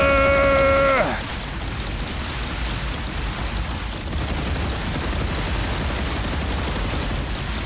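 Gun towers in the video game StarRupture open fire on monoliths: a brief falling electronic tone gives way to a dense, continuous rattle of rapid turret fire that holds steady and loud to the end.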